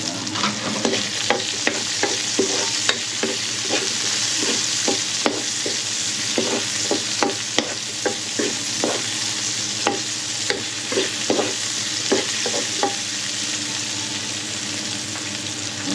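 Onion sizzles in a hot, well-used frying pan while a utensil stirs and scrapes in a quick, irregular rhythm over a constant loud hiss.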